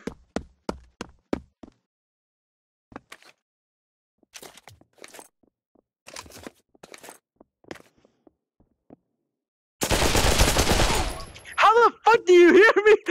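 An AK rifle in Pavlov VR fires a dense burst of automatic gunfire, loud and close, preceded by scattered footsteps and clicks, with a voice speaking briefly after the shots.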